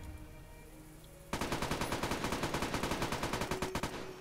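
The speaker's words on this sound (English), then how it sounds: "Okay, let's just fire some rounds here." Rapid automatic fire from a modded gun in Fallout New Vegas, a loud unbroken burst of evenly spaced shots at roughly ten rounds a second after a quiet start.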